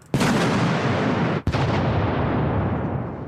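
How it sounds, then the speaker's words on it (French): A test charge, a box of steel balls and powder set at bounding-mine height, detonates as two sharp, loud blasts about a second apart, each trailing off in a long, rumbling decay. "La puissance de l'explosion projette les billes d'acier à travers le soldat et dans les rochers environnants"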